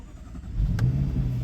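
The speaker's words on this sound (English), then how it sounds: "I'll just start the car up." A supercharged 5.0 V8 in a 2013 Jaguar XFR fires up with a brief catch, then settles into a deep, steady idle rumble. The sound is close and fairly loud, with no talking over it.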